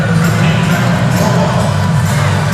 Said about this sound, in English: Can hear the Hawai'i crowd in here.